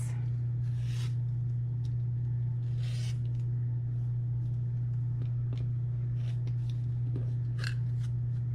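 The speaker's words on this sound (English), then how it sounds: "going to cut off this dog-eared part here so that we're just trimming off a very tiny little bit" Scissors snip through a fabric quilt block in a few soft, sparse cuts and scrapes over a steady low electrical hum, quiet and close with no talking.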